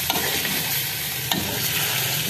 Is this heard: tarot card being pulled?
no